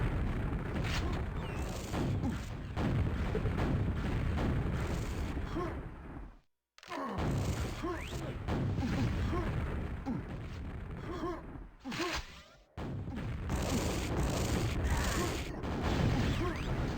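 Rocket fire and explosions in a QuakeWorld duel: repeated thudding blasts and clanking weapon sounds run almost continuously, loud and busy, with two short dropouts along the way.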